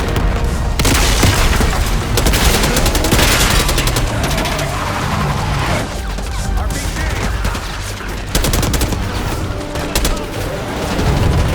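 Sustained gunfire and explosive booms from a battle in the Call of Duty: Black Ops 6 video game, near and dense with bursts and blasts throughout, under in-game voices.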